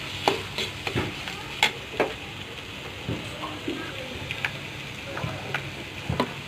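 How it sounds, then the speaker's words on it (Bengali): Chopped onions frying for pigeon curry, a soft continuous sizzle broken by sharp ticks and clacks of a spoon against the pan, close by. "পেঁয়াজ কুচি, এরপর কিছু সময় ভেজে নিব।"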